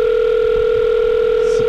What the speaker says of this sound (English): Skype number's ringing forever?